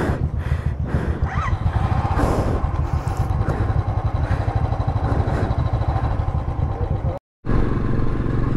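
A group of Royal Enfield Bullet motorcycles riding together on a Sunday morning road trip, a loud, close, steady thumping engine rumble with wind buffeting throughout, broken by a brief dropout near the end.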